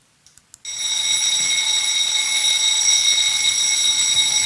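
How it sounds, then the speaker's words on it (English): An alarm bursts on after a few faint clicks, a loud continuous high electronic ringing tone that holds steadily without pause. "We could hear the alarm"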